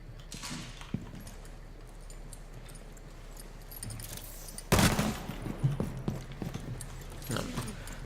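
Automatic SMG fire in Rainbow Six Siege, an unscoped weapon with a fast rate of fire, bursting loud and close around the middle, with scattered shots, clattering effects and faint movement before and after.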